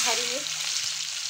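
Cumin seeds and green chilies frying in hot mustard oil in a kadhai, a steady bright sizzle with a few brief crackles near the start, close and continuous with no talk.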